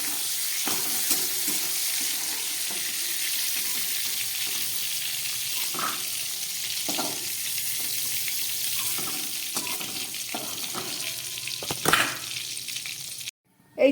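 Shrimp fry in hot oil with a dense, even sizzle that carries on throughout, punctuated by occasional soft scrapes and taps of a utensil, ending in a brief pause and a sharp knock.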